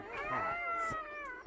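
A cat gives a long, drawn-out meow up close, loud and wavering, ending with a brief soft shuffle.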